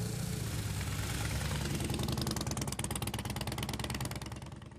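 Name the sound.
motorcycle engine idling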